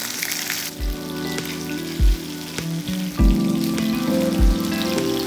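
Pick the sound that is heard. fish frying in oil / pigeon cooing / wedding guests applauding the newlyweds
fish frying in oil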